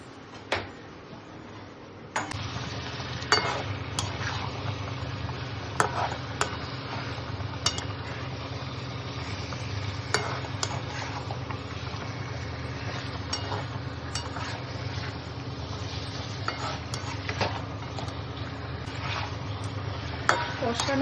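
Chicken curry with papaya stir-fried in a pan, a steady sizzling hiss under repeated clicks and scrapes of a spatula that begin after a short quiet opening and continue at a regular pace.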